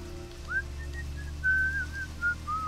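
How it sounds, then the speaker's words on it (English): Whistling in the video game Deadly Premonition, a thin melodic tune of several held notes over a steady low background hum, with no talk. "Oh, good. More whistling."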